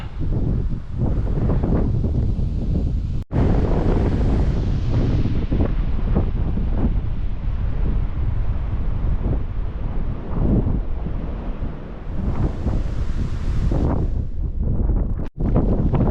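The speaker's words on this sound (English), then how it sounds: "It's pretty windy like" Strong wind on a hilltop along the South Downs Way buffets the microphone in a constant loud roar, gusting up and down, with brief dropouts and no voices.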